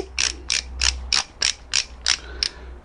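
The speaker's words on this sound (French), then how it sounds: "Donc je règle ma clé dynamométrique." A torque wrench being set for tightening a Virago 125 motorcycle's cylinder head nuts, giving eight evenly spaced sharp ratcheting clicks, close and crisp against a quiet background.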